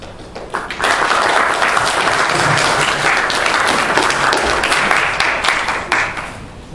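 Lecture audience at Dankook University bursts into dense, loud applause that swells after a second, holds steady for several seconds, then thins out toward the end.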